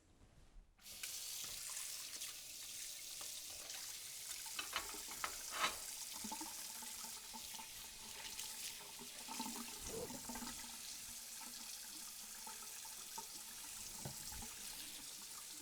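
Hot water runs steadily into a sink while hinged pie irons are washed, a continuous close splashing rush with occasional clinks and knocks of metal, and no one speaking.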